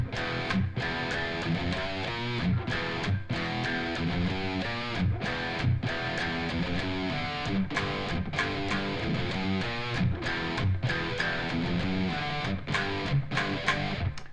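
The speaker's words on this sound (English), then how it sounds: "we get to this kind of riff that kind of transitions a lot of the songs into back to the verse" A transition riff played on a heavily distorted electric guitar, a chugging, rhythmic pattern with short stops between phrases, loud and steady with no voice over it.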